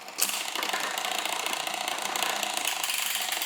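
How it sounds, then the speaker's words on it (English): Freewheel hub of a Planet X time-trial bicycle buzzes with a loud, rapid ratchet as the wheel spins freely, a dense, close mechanical clicking held steady for several seconds with no voices. "Very noisy ratchet on them. Freewheel hub."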